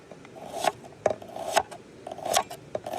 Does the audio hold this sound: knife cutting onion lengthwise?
yes